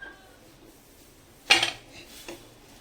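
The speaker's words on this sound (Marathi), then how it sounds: "आता त्याच्यावर हे बिर्याणीचं पातेलं ठेवायचं आहे" A metal biryani pot is set down on a hot iron griddle, giving one sharp clanking knock followed by a faint second clink in an otherwise quiet kitchen.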